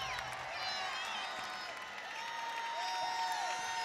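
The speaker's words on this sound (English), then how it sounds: "The crowd is involved." A basketball arena crowd at a women's college game between Virginia and Virginia Tech, a distant steady roar of cheering and noise with no clear voice on top.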